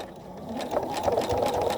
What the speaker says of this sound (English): I'm just going to keep on sewing